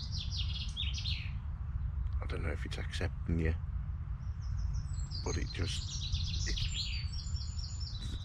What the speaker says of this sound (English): the birds seem to have been more vocal since I've sat and said nothing